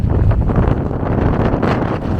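Strong wind over the Mediterranean buffeting the microphone with a low, rumbling roar and gusty surges, loud and continuous.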